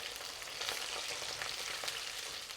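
Chicken pieces deep frying in hot oil, a dense, even crackling sizzle that holds steady and close for the whole moment.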